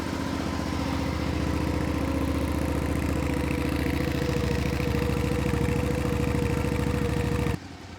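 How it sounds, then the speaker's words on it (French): A motorcycle exhaust idles close up with a steady, throbbing chug and mechanical clatter, cutting off sharply near the end. "vous entendez un petit peu le bruit du pot"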